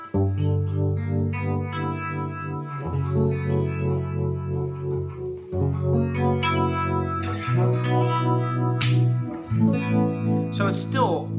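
An electric guitar runs through a Lovepedal Vibronaut photocell vibe pedal with the depth set to about halfway, playing a sequence of sustained, warbling chords and notes with a soft pulsing modulation.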